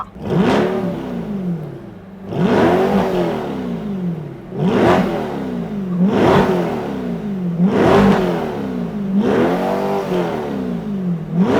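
A Corvette Stingray C8 3LT coupe in Z driving mode revs outdoors, its exhaust rising and falling in about six loud, close blips over a continuous rumbling idle.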